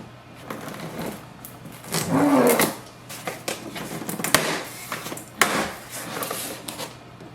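An HP DeskJet 2923 all-in-one printer is unboxed, with cardboard rubbing, plastic crinkling and packaging being lifted and set down in a series of close, uneven knocks and rustles, with no talking.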